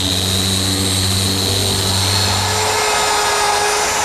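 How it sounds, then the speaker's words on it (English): A 6-inch random orbit sander smoothing wood joints on an outdoor planter box and bench, a steady loud whirring motor hum running throughout, with the low drone dropping away near the end as it winds down. "I'm using my 6-inch random orbit sander"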